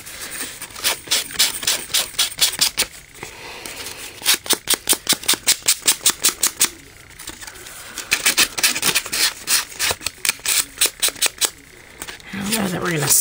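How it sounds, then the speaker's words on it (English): Rapid, rhythmic rasping strokes of sandpaper scrubbing back and forth in quick bursts, close and fairly loud, with short pauses between runs. "let's go ahead and get started with our sanding."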